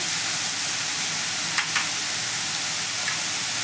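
Bottle gourd pieces hit hot oil in a pan for lau ghonto, giving a steady, loud broadband sizzle with a couple of brief scraping stirs partway through; no voices.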